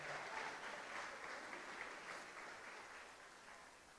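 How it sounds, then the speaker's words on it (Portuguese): A church congregation applauds together during a worship service, a dense, steady wash of many hands clapping that holds for several seconds and eases slightly toward the end. "Vamos dar uma salva de palmas a Jesus por eles."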